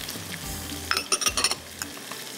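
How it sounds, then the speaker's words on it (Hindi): About a teaspoon of cumin seeds frying in oil for a cauliflower and pea curry, a brief close sizzle with a quick cluster of crackling pops and a stirring scrape, no voice heard. "ज़ीरा ज़रा सा फ्राई हो रहा है यहाँ पर।"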